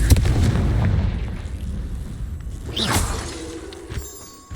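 A Confringo fire spell blasts in Hogwarts Legacy combat: a loud booming explosion, then a bright whooshing burst and crackling debris that fade out.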